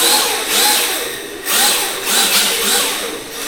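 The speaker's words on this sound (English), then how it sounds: "It makes a very kind of unusual sound there with the turbo." A Furitek Slidetech Pro ESC driving an RC drift car motor on turbo gives a loud, harsh, broadband electric whine that surges and dips in several pulses over a few seconds, close by and with no talking.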